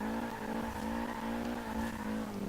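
A Nissan 240SX drifts around a traffic circle in the video game Forza Horizon 3, its engine droning at high steady revs with tire squeal layered on top, loud, continuous and alone.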